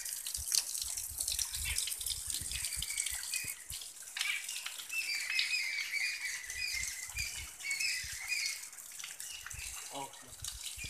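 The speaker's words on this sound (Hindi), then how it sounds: "आप देख रहे हैं मेरे पीछे जो निर्झर झरना बह रहा है।" A waterfall at Dashrath Ghat in Chitrakoot pours steadily, making a continuous broad rushing wash that holds at an even level for the whole stretch.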